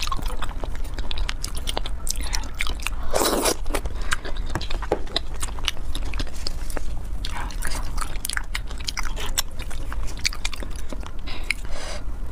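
Plump raw oysters are bitten and chewed up close, with repeated wet, squelchy bites and mastication sounds spread across the whole stretch, loud and intimate with no talking.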